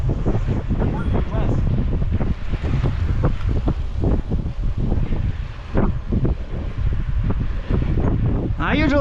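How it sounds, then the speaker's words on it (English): Wind roars steadily across a microphone on a single-speed bicycle riding near Calgary, Canada, as a low, continuous rush runs the whole time beneath voices talking. "When you sit by my wheel, the wind's coming this way."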